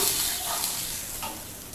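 Water poured into a hot pan for dry upma sets off a loud, continuous sizzling hiss close by, rising and surging briefly, with no voices.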